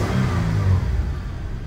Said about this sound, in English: So here the vehicle is on a cold start, just warming up.